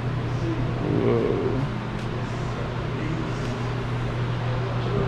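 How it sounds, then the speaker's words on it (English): Steady low engine drone from a red Lamborghini Aventador SV supercar, heard continuously at a moderate level with no clear revs or pops, set against outdoor city ambience in Chicago. "It's an Aventador SV."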